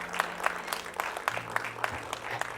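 A church congregation claps during a sermon, a sparse run of distinct, rhythmic claps at a steady pace, fairly close and moderately loud over a low hum.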